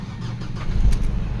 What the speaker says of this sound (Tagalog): Engine start.